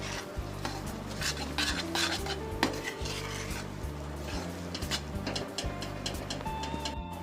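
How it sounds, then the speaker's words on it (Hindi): Quick, repeated stirring of a coconut and makhana mixture in a pan, with utensil scrapes and clinks against metal over a steady low cooking hum, busy and continuous with no talking. "इसमें मटेरियल ऐड करने के बाद इसको थोड़ा जल्दी जल्दी चलाना है फटाफट, ताकि ये मिक्स हो जाए।"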